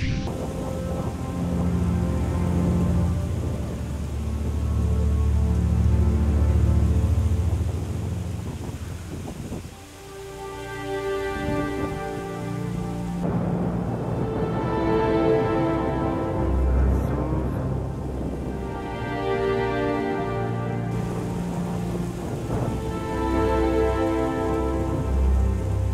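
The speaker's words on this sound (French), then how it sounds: "on entend l'orage vers là-bas" Heavy rain pours steadily on surfaces close by during a thunderstorm, with low rumbles of distant thunder rolling under the downpour and gusts of wind, sustained and loud throughout.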